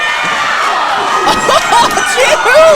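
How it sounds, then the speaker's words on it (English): Crowd at a Pro Wrestling League championship show cheering and whooping loudly and steadily, with rising shouts and whistles breaking through the roar. "The crowd cheer."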